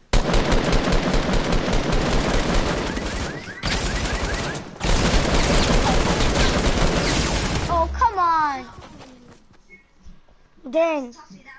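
Submachine gun fire in a video game, with sustained rapid bursts for several seconds and a short break before it trails off into quieter game sounds, with excited voices over it.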